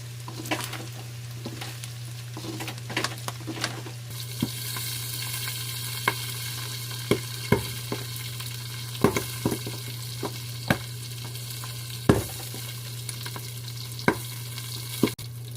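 Pieces of crispy pork frying in hot oil with a steady sizzle, broken by sharp pops and crackles that come at irregular intervals through the whole stretch, close and fairly loud.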